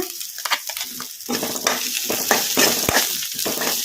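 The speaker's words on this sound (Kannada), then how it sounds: "ಉಳ್ಳಾಗಡ್ಡಿ ಹಸಿಮೆಣ್ಸಿನ್ಕಾಯಿ ಒಂದು ಸ್ವಲ್ಪ ಫ್ರೈ ಆಗೋವರೆಗೂ ಫ್ರೈ ಮಾಡ್ಕೊಂಬಿಡೋಣ" Onions and green chillies frying over a medium flame, a steady broadband sizzle with occasional scraping stirs and a sharp clack near the end, close and fairly loud with no talking.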